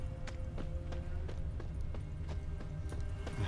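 Horse hooves clop at a steady, even trot in The Witcher 3: Wild Hunt, each hit distinct and moderately loud over a low continuous hum.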